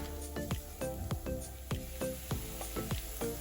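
Onions and garlic cooking in a hot pan for prawn tacos, a steady sizzle broken by regular squishing pops and stirring strokes, close and fairly loud.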